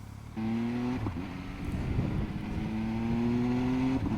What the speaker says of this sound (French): tu as ce petit clac, ce petit pète à l'échappement